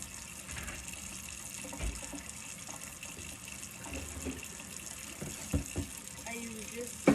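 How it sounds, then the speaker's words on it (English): Tap water runs steadily while a sink is washed, with a continuous faint splash and a few louder knocks and splashes near the end, alone without talk. "I use this just to wash my sink"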